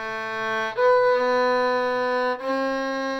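A solo violin holds sustained bowed notes. The pitch steps up partway through and settles on a steady, clear C with rich harmonics.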